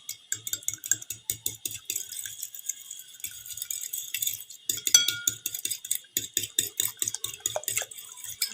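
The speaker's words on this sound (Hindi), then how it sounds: "अब मैं इसको हिला लेती हूँ, मिक्स कर लेती हूँ।" Eggs being stirred into egg halwa in a pan, a steady run of metallic scraping and clinking strokes from a spoon against the pan, close and continuous with brief lulls.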